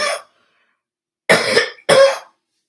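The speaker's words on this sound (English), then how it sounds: "It's like I have to get the cough out to get going, keep going." A person coughs in three harsh, loud bursts: a short one at the start, then after a pause two heavier coughs close together, with no other sound.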